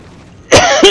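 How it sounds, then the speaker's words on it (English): Two sharp, close coughs in quick succession after a half-second of quiet background hum. "Stop coughing in my ear."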